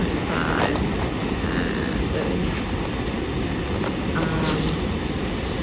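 A Jetboil camping stove burner runs at close range, giving a constant, loud, jet-like roar that holds steady without pauses or voices.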